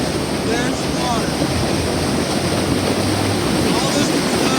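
Water gushing from the valve chutes of a tanker truck during a 3500-gallon drop, a loud continuous rushing roar close by with wind noise on the microphone.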